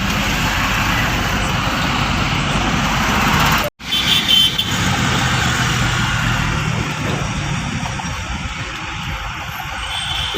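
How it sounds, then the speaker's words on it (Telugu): Jammed road traffic with buses and trucks, a loud steady rumble of idling engines close by, with a sudden brief dropout and then the drone resuming. "ఈ నుంచి ఈఎస్ఐ కాడ నుంచి ట్రాఫిక్ జామ్ ఓహో బస్సులు యూటర్న్ చేసుకుంటున్నాయి"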